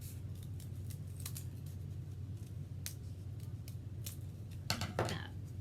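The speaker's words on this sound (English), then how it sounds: "And then we're going to cut it in the top of it in a petal shape." Scissors snip through folded book-page paper to cut a petal shape, a few quiet, scattered cuts with a quicker pair of snips near the end over a low background hum.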